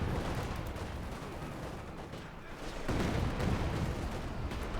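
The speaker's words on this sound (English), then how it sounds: "Crew there being absolutely hammered by rockets." A rocket barrage pounds a tank crew in the strategy game Company of Heroes 2, a dense, continuous roar of blasts and crackling impacts that swells louder toward the end.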